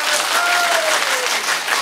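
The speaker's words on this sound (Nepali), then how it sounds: "यदि यो जोडीको आजको गीत सही लाग्यो भने जोरदार ताली दिनुहोस् त सबैले" An audience claps steadily after a duo's song at a Nepali live song contest; dense, close applause fills the whole moment, with a thin whistle-like tone briefly over it.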